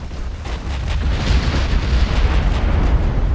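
A warship in the naval video game Ultimate Admiral: Dreadnoughts explodes after a 15-inch shell penetrates and blows off a turret, making a loud, continuous rumbling roar with scattered crackling bursts throughout.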